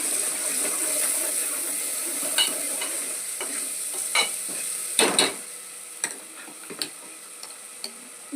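Freshly ground ginger garlic paste fries in a pan for biryani, giving a steady low sizzle punctuated by scattered sharp clicks and scrapes of stirring, near and unaccompanied by voices.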